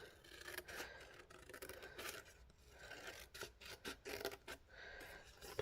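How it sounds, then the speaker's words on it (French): Paper tab on a chocolate box decoration being bevelled in a scrapbooking craft, a close, soft rasping and rubbing with repeated short scraping strokes, no talk. "Et je biseaute un petit peu plus au niveau de la languette."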